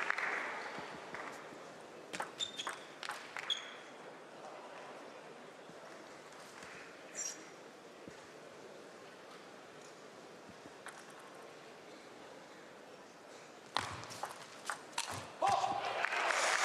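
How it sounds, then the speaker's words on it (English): A table tennis crowd at the German Open erupts in cheers and shouts in bursts, with quieter murmuring stretches between the loud outbursts. "And the crowd in an uproar here."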